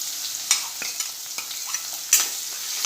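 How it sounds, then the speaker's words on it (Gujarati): Large-cut onion sautéing over a high flame in a pan with a pinch of asafoetida, a soft steady sizzle broken by scraping stirs and a few sharper clinks of the spoon, close up with no voices. "થોડો ફાસ્ટ ગેસ પર જ કાંદાને 2 મિનિટ સાતરી લઈશું।"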